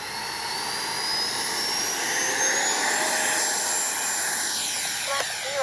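FMS Integral 80mm electric ducted-fan RC jet, the Shark, taking off with flaps set: a steady high whine and broad rushing hiss that slowly rises in pitch, with a faint click near the end.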